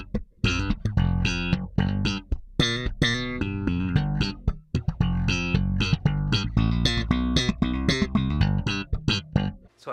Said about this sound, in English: It's like an automatic wah.